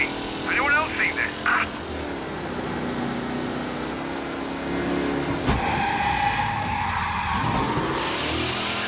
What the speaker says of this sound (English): Reporting a race car driving at speed through the city.